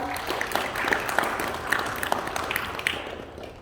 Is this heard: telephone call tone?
no